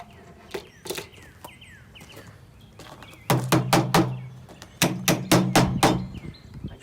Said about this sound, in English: Okay, so now I'm going to grab my hammer.